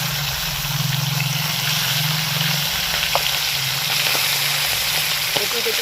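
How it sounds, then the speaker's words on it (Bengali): Tilapia fish frying in hot mustard oil in a home kitchen, a steady close sizzle and crackle throughout with occasional small pops, no talking. "তারপর মাছটাকে দিয়ে দেবো বেশি না একবারে দুটো করে ভাজবো"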